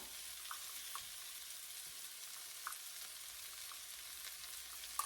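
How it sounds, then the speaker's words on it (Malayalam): Masala powder and Kashmiri chili sautéing in a pan for a coconut-milk fish curry, a faint, steady hiss of frying with a few soft scrapes of stirring, quiet and close. "എന്തായാലും ഒന്ന് ഇതിനെ വഴറ്റണം. ഇതിൻ്റെ ചെറുതായിട്ട് ഇതിൻ്റെ കളറൊന്ന് മാറണം."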